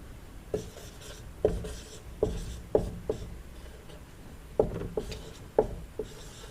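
Chalk-like strokes on a board during a maths lesson on set theory: rhythmic scratches and taps, close and fairly clear, come in short bursts over a faint room hum, with no talking.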